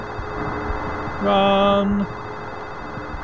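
A telephone in Silent Hill 4: The Room gives one loud electronic ring burst of under a second amid droning game ambience, with a voice shouting briefly alongside.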